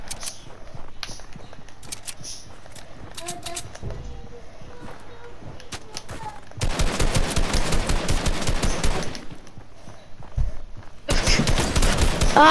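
Bursts of rapid automatic gunfire from a Fortnite Battle Royale match, loud dense volleys separated by a quieter stretch with scattered single shots.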